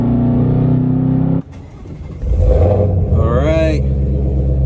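Engine of a 1000hp 2020 Shelby GT500 rumbling loudly at idle, cutting out briefly, then revving back up with a rising roar as someone speaks over it.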